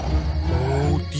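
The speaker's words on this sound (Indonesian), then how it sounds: "Itu adalah suara dari sang harimau." A tiger's deep, rumbling roar in a dark cave, sustained and loud across the whole moment, with low growling tones and a faint rising whine near the end.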